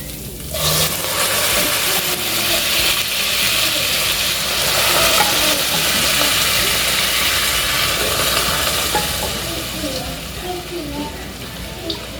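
Beans browning in a frying pan: a loud, dense sizzle that holds steady throughout, with scraping and stirring noise mixed in and a voice faintly present underneath.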